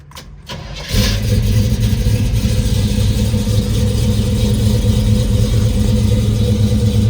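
A 1970 Chevrolet Chevelle with Sniper EFI fuel injection cranks briefly and fires up, then settles into a loud, steady, close idle with a deep rumble for several seconds, no one speaking.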